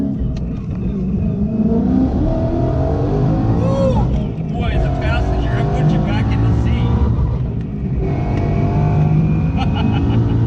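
A Mustang engine of over 800 horsepower revs and drones nearby as the car drives past, with people talking over the steady road noise.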